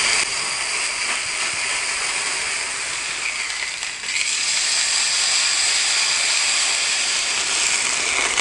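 Loud, continuous sizzling of pork steak frying in a hot pan, a dense hiss close up with a brief dip midway.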